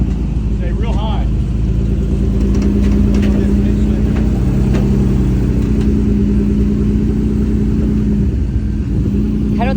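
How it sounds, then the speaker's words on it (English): A Jeep's engine strains and labours on a hardcore off-road trail, a loud, close, sustained drone whose pitch rises and shifts as it works, with people talking over it throughout. "Engine is not happy."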